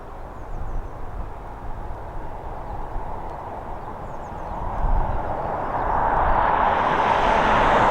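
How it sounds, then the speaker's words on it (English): An Airbus A330 taxiing at Dublin Airport, a distant jet engine rumble and whine under outdoor wind noise that grows steadily louder toward the end, with faint birdsong. "So we've got an A330 taxiing away in the background"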